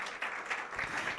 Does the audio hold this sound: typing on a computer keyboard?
no